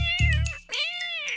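Two cartoon cats squabble in a Hindi children's story about a monkey, giving two loud, drawn-out meows back to back, close and with no talking.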